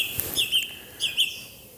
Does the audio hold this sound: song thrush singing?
yes